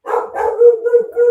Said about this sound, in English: your dog is trying to get involved in that conversation there